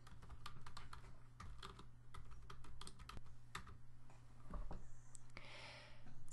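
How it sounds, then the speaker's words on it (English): Typing on a computer keyboard, a quiet, steady run of close, light key clicks in quick irregular rhythm, with a few heavier taps near the end. "You might have to type it in again."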